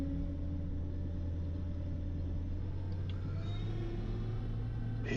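A combine harvester engine idles and throttles down during soybean harvest, a steady low rumble with strong low drone bands running throughout, loud and close, with a brief lighter shift near the end.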